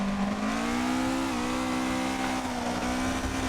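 Car drifting in the Assetto Corsa racing game, played on a Logitech G920 wheel: a steady, loud engine drone holds its pitch with a slight dip partway through, continuous and close, with no voices over it.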